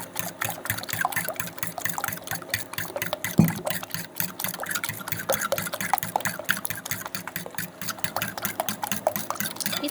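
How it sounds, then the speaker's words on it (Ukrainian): Rapid, steady clicking of a whisk against a bowl as eggs and milk are beaten, with liquid sloshing, continuing evenly throughout at close range. "так на протязі хвилинки збиваємо молоко із яйцями."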